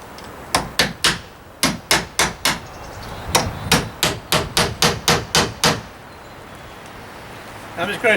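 Hammer blows tacking a quarter-inch wooden shim at a window opening in a garden shed greenhouse, two quick bursts of sharp, loud, evenly spaced strikes, about seven then nine, followed by quieter handling noise.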